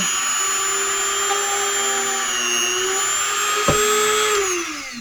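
A Dremel rotary tool drills a small hole, whining steadily at high pitch, running continuously for several seconds before winding down at the end, close and loud.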